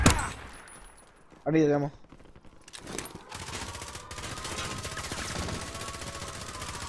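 Gunfire crackles in Call of Duty Cold War Warzone, starting with a sharp burst and ending in rapid automatic fire rattling continuously toward the end, while a player talks briefly over it.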